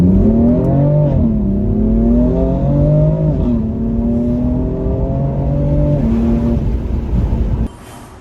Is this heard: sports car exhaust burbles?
yes